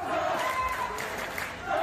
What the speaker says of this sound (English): Crowd is cheering for Thunder Rosa